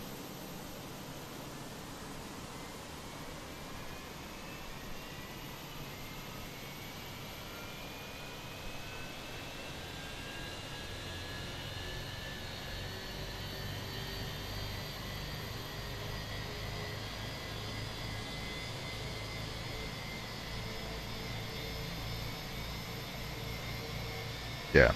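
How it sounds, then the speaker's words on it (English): Fenix A321 jet engine starting up in a flight simulator, a steady broadband roar with a faint whine slowly rising in pitch as the engine spools up, continuous and moderately loud throughout. "get the engine started to get this show on the road"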